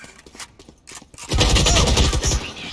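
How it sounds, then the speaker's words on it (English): Gunfire in the online shooter Valorant, a few separate shots followed by a loud, sustained burst of rapid automatic fire lasting over a second. "Oh, I shot him like 3 times."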